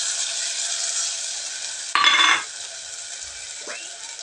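Chicken curry masala of ground roasted coconut, garlic and ginger fries in a pan with a steady, close hiss. A brief louder scrape of stirring comes partway through, and no one speaks.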